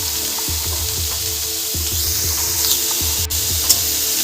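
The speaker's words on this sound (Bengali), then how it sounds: "এবার হলুদ আর লবণ দিয়ে কপির ডাঁটাটাকে ভালো করে কষিয়ে নেব।" Cauliflower stems frying with turmeric and salt, a loud, close sizzle with rhythmic spatula strokes scraping the pan every second or so, and no speech.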